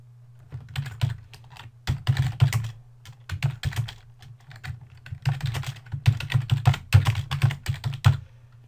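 Keys clatter on a computer keyboard in short, irregular bursts of typing separated by brief pauses, close and fairly clear with no speech.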